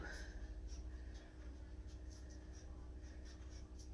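Chalk or marker tapping and scratching on a classroom board during a solar system lesson, a series of soft, quick strokes over a low steady hum, faint and close.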